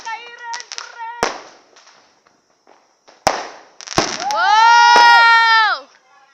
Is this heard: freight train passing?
no